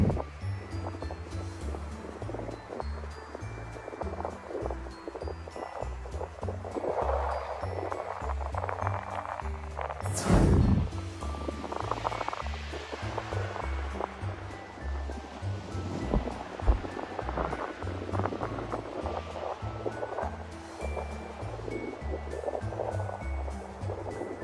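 Ocean waves roll in on a cold, windy beach at Dana Point, California, a loud continuous wash of surf with gusts of wind buffeting close by and one sharp rushing burst midway.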